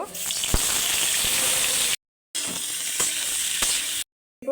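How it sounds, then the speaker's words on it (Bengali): Raw jackfruit pieces fry loudly in hot oil, a bright continuous sizzle with occasional stirring knocks, cut by two short silent gaps. "এঁচড়গুলোকে প্রথমে আমি ভালো করে একটু ভেজে নেব"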